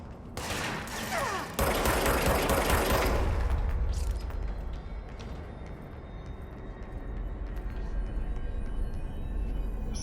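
Rapid bursts of enemy gunfire in the action game Control, a dense loud fusillade of automatic shots with mechanical clatter, continuing steadily without talk.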